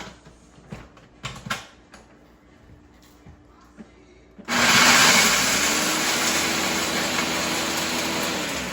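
A kitchen grinder grinds pork rinds down into panko crumbs, kicking on abruptly partway through as a loud, steady whirring roar that holds nearly constant, following quieter handling and clatter.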